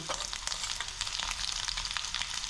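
Garlic and mustard seeds fry in hot oil for a taro root stir-fry, giving a steady, close sizzle with dense crackling pops throughout.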